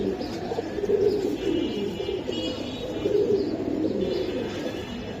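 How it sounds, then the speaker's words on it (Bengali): Giribaz pigeons, a red pair, coo in low rolling phrases, close and fairly loud, with a faint chirp now and then over a steady background. "এটা ছাড়াছাড়ির জন্য লাল গিয়ারের একটা লাল পেয়ার। গিয়ারের কবুতর।"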